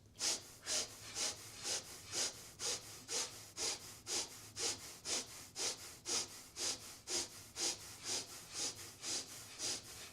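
Slow, deep rhythmic breathing during a held yoga pose, each breath a soft airy rasp repeating steadily about twice a second, close and clear with no talking.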